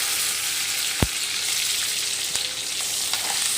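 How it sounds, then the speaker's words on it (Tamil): Dried red chillies, curry leaves and garlic sizzle in hot oil with a constant crackling hiss and a sharp pop or two. "வரமிளகா, கருவேப்பிலை, பூண்டு. பெருங்காயம் போட்டுக்கலாம்."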